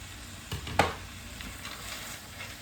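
Chicken and edamame for kung pao chicken sizzle softly in a pan, a low, even frying hiss with a couple of sharp utensil knocks near the start.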